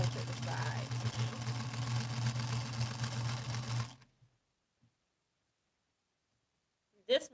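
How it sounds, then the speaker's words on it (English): Sewing machine stitching the sides of a quilt, a close, steady mechanical whir for about four seconds before stopping, then near silence with a brief knock at the end. "I'm ready to sew to the sides now"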